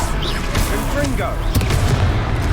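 A Confringo fire-spell blast in the Hogwarts Legacy video game booms out in a loud, dense burst of game sound, with a sharp impact near the middle, while a player talks over it.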